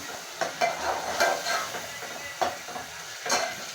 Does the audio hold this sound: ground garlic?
yes